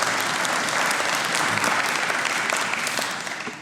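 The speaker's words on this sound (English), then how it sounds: "So let's give them a round of applause." An audience at a Capitol Hill Financial Literacy Day event claps in steady, dense applause that holds strongly, then begins to thin out toward the end.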